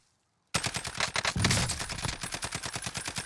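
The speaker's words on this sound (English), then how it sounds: "I shot right above his head." A SCAR rifle fires in Warzone, a rapid, loud burst of shots that breaks out after a moment of silence and keeps a fast, steady rhythm to the end, with one heavier blast mixed in near the start.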